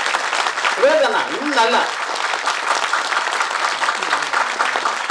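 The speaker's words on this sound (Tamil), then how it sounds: "எனக்காக ஒரு தடவை ஜோராக எல்லாரும் கைத்தட்டும் பண்ணலாம்" A crowd at a Tamil film audio launch breaks into loud, sustained applause and cheering, with a speaker's amplified voice cutting through briefly over the dense clapping.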